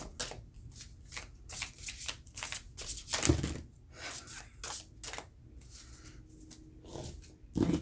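Tarot cards being shuffled by hand, a run of close, crisp riffling and shuffling bursts with short pauses between them and no talk.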